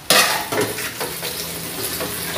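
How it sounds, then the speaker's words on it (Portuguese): Dishes being washed in a home kitchen, with clattering pots, pans and cutlery over a steady wet, sizzling-like wash noise, fairly close and continuous with a sharp clatter at the start. "Ele já tá ali lavando a louça que ele já sujou"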